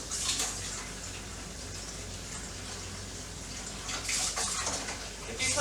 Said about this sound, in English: run hot water and wash the meat cutting board off immediately